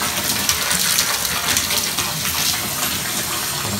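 Cold water runs steadily from a bathtub faucet during a leak repair, a loud, continuous gushing splash into the tub that lasts the whole stretch, with no voices over it.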